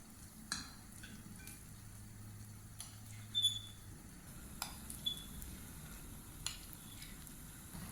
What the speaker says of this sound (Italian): con uno preleviamo il composto e con l'altro lo lasciamo scivolare nell'olio